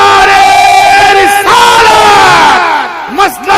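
Large crowd at a religious gathering loudly chanting slogans in unison in response to a preacher's call, sustained sung-out shouts with a brief dip before rising again.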